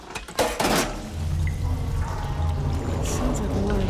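Water surging back through pipes after a switch is flipped in Horizon Forbidden West, a sudden splashy gush followed by a steady rushing flow with a low gurgling undertone.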